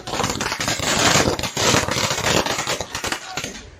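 Firecrackers crackle in a loud, unbroken chain of rapid pops, with a crowd of celebrating fans faintly audible beneath outside Shah Rukh Khan's Mannat residence.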